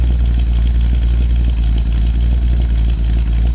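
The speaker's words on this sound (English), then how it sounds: "Cold, but the idle's right where we want it." A 1970 Chevy C10 Suburban with Sniper EFI idles after a cold start following weeks of sitting, a loud steady low rumble with an even pulsing beat, close up and uninterrupted.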